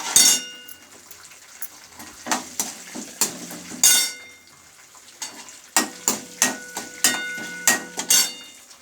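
Cashews and roasted peanuts fry in a pan, crackling and sizzling close by as a spoon knocks and scrapes in uneven bursts, with quieter pauses between strokes.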